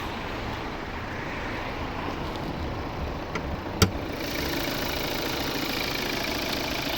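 A 2016 Volvo V60 R-Design's 2.0 D4 diesel engine idles with an even, throbbing rumble close up, broken once by a sharp click partway through.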